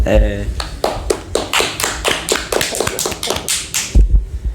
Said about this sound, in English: Can we get a round of applause for his cactus impression?